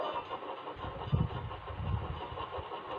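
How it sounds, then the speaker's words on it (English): A steam engine from an animated railway series brakes gently while running along the track, giving a steady low mechanical rumble with a couple of slightly heavier chugging surges, heard alone with no talking. "Gently braking, Edward's driver checked the engine's speed"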